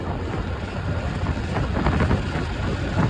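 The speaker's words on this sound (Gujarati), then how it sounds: "બહુ ઠંડો પવન હે? ઠંડો પવન આવે બાપુ ઠંડો પવન જોવો" Continuous cold wind near Bet Dwarka buffets the microphone with a broad, rushing roar, steady throughout with slight gusts and no voices.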